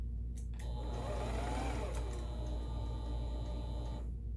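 A Kenmore model 17922 sewing machine runs in a short steady burst, a close mechanical whir with a faint rapid ticking, starting and stopping cleanly.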